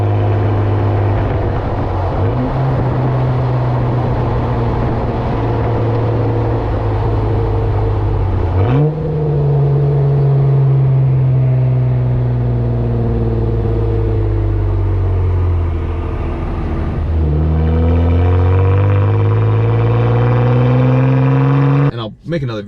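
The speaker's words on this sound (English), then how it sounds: "this would be a perfect time to play the clip that I was downshifting" A manual Jeep Wrangler with an aftermarket exhaust downshifts before a corner, its loud, close engine note dropping and then blipping upward in pitch between gears, with a steady rumbling drone throughout.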